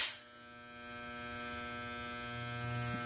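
Wahl Legend hair clippers run with a steady electric hum and buzz, close and fairly quiet, holding even for a few seconds.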